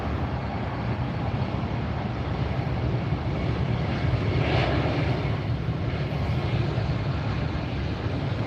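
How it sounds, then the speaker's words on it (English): Airbus A321neo jet on approach to land at LAX airport, a steady broad engine roar throughout, swelling slightly near the middle as it passes, heard from a moderate distance. "flight 895, an Airbus 321neo coming in from Atlanta."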